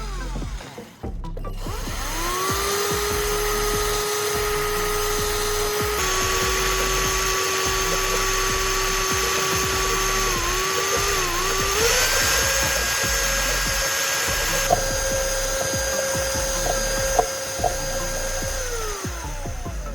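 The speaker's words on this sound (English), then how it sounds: "I'll use my homemade stirrer to mix it thoroughly." A homemade motorized stirrer whirs steadily while mixing paint and thinner for a repurposed WD-40 bottle, its pitch rising slightly partway through, with faint clicks and taps near the end.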